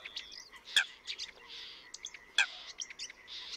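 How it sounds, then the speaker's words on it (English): Birds breeding in reed beds chirp and tweet in quick, scattered calls, with two sharper, louder notes standing out over a faint background. "There are lots of other birds besides cranes breeding in the reed beds."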